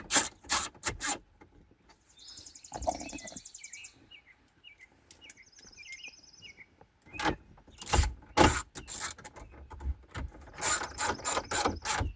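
A ratcheting screwdriver driving screws to secure the stereo bezel inside a 2000 Toyota Tundra cab, with rapid sharp clicking bursts separated by quieter gaps and a few faint high chirps.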